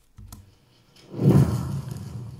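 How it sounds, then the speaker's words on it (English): A soft rush of air swells up and fades out, a single quick whoosh after a faint brief tap. "I'm gonna use the quick whoosh for this one."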